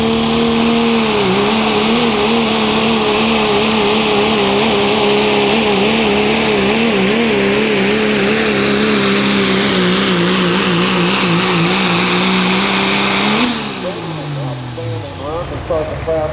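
The Crippler, a pro street diesel pulling truck, roars at close range at a 2014 truck pull in Versailles, Kentucky. Its loud engine drone wavers in pitch for about thirteen seconds, then shifts abruptly and drops off as the run changes.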